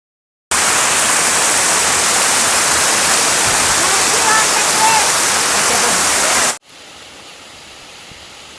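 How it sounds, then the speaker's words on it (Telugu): Water crashing down a waterfall at a secluded spot along a ghat road, a loud, steady roar close by that cuts off abruptly near the end, leaving faint background noise. "మొత్తం వాటర్ సౌండ్"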